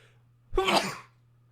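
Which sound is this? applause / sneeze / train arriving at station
sneeze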